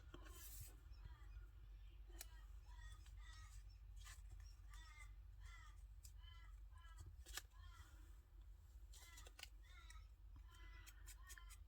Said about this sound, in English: Oh my gosh, my crow, he's so loud.